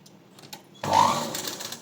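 A sewing machine stitches three layers of fabric for a blouse shape belt, starting suddenly after a quiet moment and running as a fast, steady mechanical whir up close.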